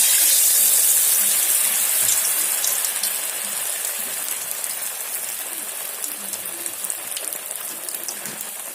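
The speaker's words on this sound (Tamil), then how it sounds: "எண்ணெய் காய வச்சுருக்கு, இதை நம்ம பொரித்து எடுத்துக்கலாம்" Clusters of cashews deep-frying in hot oil, a steady dense bubbling hiss that stays close and fairly loud throughout, fading slightly over time, with faint speech-like murmurs underneath.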